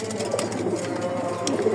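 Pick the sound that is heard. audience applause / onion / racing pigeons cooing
racing pigeons cooing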